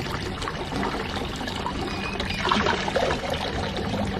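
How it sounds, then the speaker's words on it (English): Homemade garden water fountain trickling and splashing in a steady, soft wash of running water, heard close and unbroken with no voices. "I also love hearing the water fountain that my dad made"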